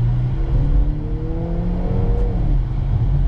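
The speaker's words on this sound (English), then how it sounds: "The acceleration is surprisingly good, and the reason being is that this is not a small vehicle" A 2020 Volvo S60 accelerating from inside the cabin, engine tone rising in steady sweeps over a continuous low road rumble, loud and close with no talk.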